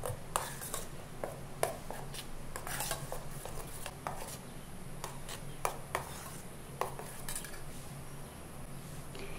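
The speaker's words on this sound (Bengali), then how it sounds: "এবার একটু এটা নেড়ে সবকিছু মিশিয়ে নিচ্ছি।" Utensil clinks and scrapes as a prawn marinade of yogurt and turmeric is stirred and mixed in a bowl, irregular light taps over a quiet kitchen background.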